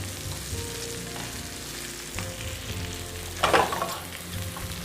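Mushrooms sautéing in butter for a scratch-made green bean casserole, giving a dense, steady sizzle close by with a brief louder burst near the end and a low hum underneath.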